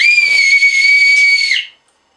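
One steady, shrill whistle blast, blown to call a budgie, sounds loud and close for about a second and a half, then cuts off into silence.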